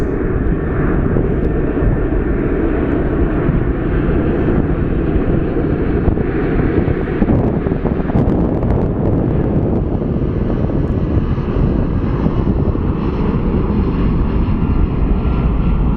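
A Southwest airliner on its takeoff roll at Phoenix Sky Harbor International Airport gives a loud, steady engine roar that fills the whole stretch without letting up.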